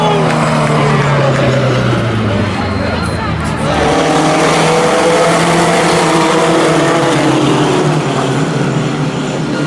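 Race cars engines roar through a turn at a local motorsports event as several cars spin out, a loud continuous drone with shifting engine pitch and tire noise, with a commentator talking over it.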